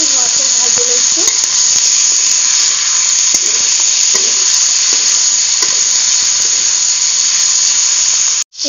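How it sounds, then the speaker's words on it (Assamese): Pork pieces fry with spices in hot oil, giving a loud, unbroken sizzle and hiss that carries evenly throughout and then cuts off abruptly at the end. "মাংসখিনি আৰু মছলাখিনিৰ লগত ভালদৰে মিহলি হোৱাকৈ ভাজি লৈছোঁ"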